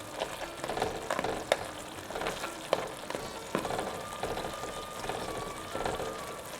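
Crab curry with masala frying in a pan while being stirred, a steady sizzle broken by scraping spoon clatters and clinks, fairly close and continuous with no talk.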